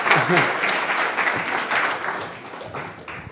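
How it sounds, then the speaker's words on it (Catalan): An audience at a science talk on the cosmos gives a short burst of dense clapping, fairly close, with voices audible underneath. "Un aplaudiment molt fort per la Sílvia, sisplau."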